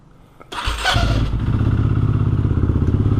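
A BMW F900XR motorcycle cranks and fires into a loud, close idle with a steady pulsing beat, ready for a test ride.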